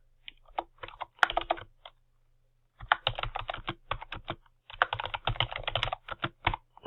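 Close, steady typing on a computer keyboard at a desk, with rapid key clicks in bursts separated by short pauses.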